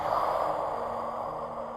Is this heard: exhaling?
yes